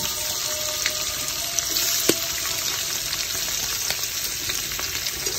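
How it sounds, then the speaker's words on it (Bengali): Cubed chicken pieces frying in hot oil in a pan, a steady close crackling sizzle with dense popping and a brief sharper spatter midway, continuing evenly throughout with no voices. "তেল গরম হয়ে গিয়েছে, এবারে কিউব করে রাখা চিকেনের টুকরাগুলো এর ভিতরে দিয়ে দিচ্ছি"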